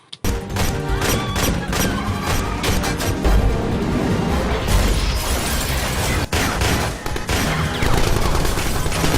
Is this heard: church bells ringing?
no